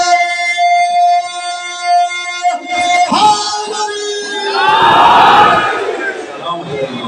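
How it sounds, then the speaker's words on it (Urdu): A crowd at a religious gathering in an imambargah in Lahore shouts a slogan in response, a loud mass of voices rising after a man's sustained chanted call, swelling into broad roaring shouts. "آپ سب نے جگر کی طاقت کے ساتھ اس نعرے کا جواب دینا ہے"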